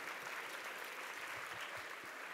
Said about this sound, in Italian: Dovete farlo questo applauso